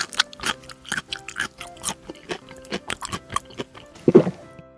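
Someone bites into and chews a gummy bear white chocolate candy cane up close, a rapid series of wet, squishy crunches and mouth sounds with a louder bite near the end, no talk.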